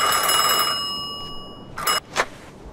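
A telephone rings in the Mafia 2 video game, a bright, harmonic bell tone that fades out over a couple of seconds, followed by two short, sharp bursts of sound.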